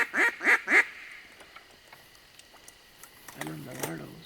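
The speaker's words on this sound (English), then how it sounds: "Hey, those are mallards." Mallard ducks quack in three loud bursts at the start during a youth duck hunt in Michigan, followed by softer scattered quacks and a voice speaking near the end.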